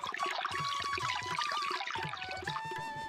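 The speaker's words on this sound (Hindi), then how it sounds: "इतना कहने के बाद कुएं से पानी निकलने लगता है" Water gushes and splashes out of a magic well in a continuous, bubbling pour, accompanied by high ringing tones over the rushing water, with no talking.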